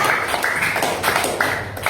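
A classroom of students claps for a fellow student, a dense, fairly soft patter of hand claps lasting a couple of seconds.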